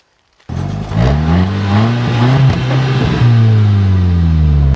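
A car rated at 256 horsepower and 243 lb-ft of torque launches hard from a standstill toward 60 mph. The engine roars up steadily and loud, with a brief dip at a gear change before climbing again, and no talking.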